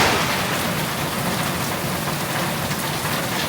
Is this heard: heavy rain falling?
yes